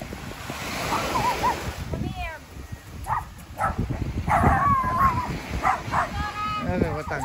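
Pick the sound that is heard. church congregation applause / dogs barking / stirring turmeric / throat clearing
dogs barking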